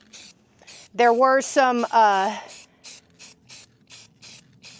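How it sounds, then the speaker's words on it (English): A can of spray paint hisses in short, evenly spaced bursts on old light fixture parts, the rhythmic sprays continuing before and after a person talks briefly. "when I spray the paint, it doesn't stick them together"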